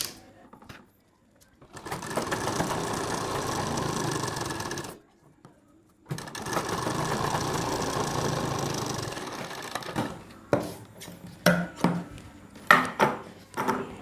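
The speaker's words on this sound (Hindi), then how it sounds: "और यहाँ पे हम इसमें एक सिलाई लगाएंगे।" A sewing machine stitches a blouse collar in two steady, sustained runs separated by a short pause, followed by scattered clicks and handling knocks as the work stops.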